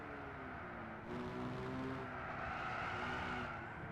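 Car in Gran Turismo 6 sliding with its back end out, tires squealing and skidding over a steady engine drone, faint and continuous for a few seconds with no talk.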